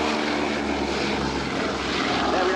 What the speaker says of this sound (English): It's wonderful to see the B-17.